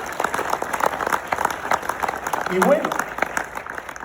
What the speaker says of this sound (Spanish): Un fuerte aplauso para Cata también.